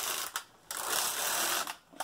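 A knitting machine carriage runs across rows of waste yarn, two loud, close rasping sweeps separated by brief quiet pauses as the carriage reverses direction.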